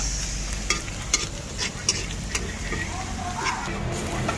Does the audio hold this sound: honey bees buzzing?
no